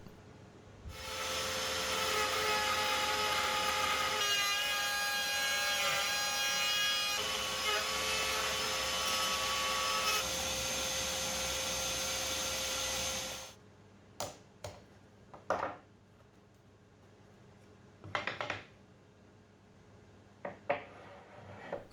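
A router fitted with a pattern bit cuts a slot in a wooden floating shelf, a loud, steady high whine lasting about thirteen seconds, then cutting off, followed by scattered clicks and knocks of handling.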